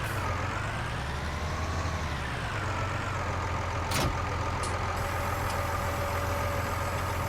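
A tractor in Farming Simulator 19 runs at a steady low idle, a continuous even engine drone with a brief click partway through and no voices.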